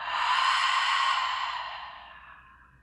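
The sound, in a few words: deep exhalation during a breathing exercise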